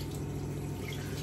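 Steady tap water runs without a break over a synthetic shaving brush being wetted at a sink, a constant close splashing hiss with no talking.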